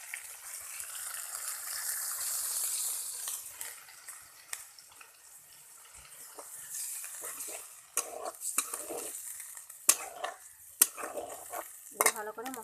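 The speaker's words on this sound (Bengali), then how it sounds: "দিয়ে ভালো করে মশলাটা কষিয়ে নেবেন।" Spice masala sautés in a pan with a splash of water for a soybean and potato curry, soft sizzling under repeated sharp spoon scrapes and clinks against the pan, close but quiet.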